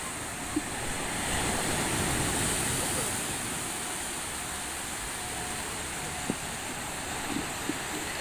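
Steady wash of waves and wind fills a harbour at night at Vizhinjam, a continuous broad roar with a few faint clicks.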